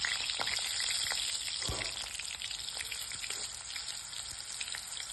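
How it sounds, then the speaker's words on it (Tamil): Steady crackling sizzle of green banana pieces frying in hot oil, a dense continuous hiss with scattered pops, fairly close and unbroken throughout. "எண்ணெய் சூடானதும் எவ்வளவு வாழைக்காய் பீஸ் போட முடியுமோ அவற்றை எண்ணெய்க்குள் போட்டு பொரிக்கலாம்"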